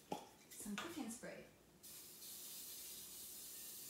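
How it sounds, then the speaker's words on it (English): Cooking spray hisses from a can into an oven wok while making Druze mountain bread, a steady close spray lasting about two seconds after someone speaks. "what I'm going to do now is I'm going to spray the oven"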